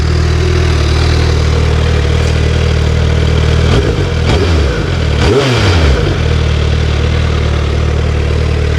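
Close up, a Suzuki Hayabusa GSX1300R 25th Anniversary motorcycle idles with a low rumble, then gets a few short, sharp throttle blips around the middle before settling back to a steady idle; no voices are heard.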